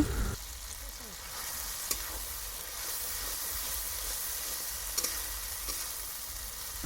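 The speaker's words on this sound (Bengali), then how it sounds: "টমেটো আমি ভালোভাবে ভেজে নিচ্ছি" Tomato fries in spice masala for chicken biryani, giving a steady, loud sizzle that hisses without a break, with a few light clinks of stirring and no talk.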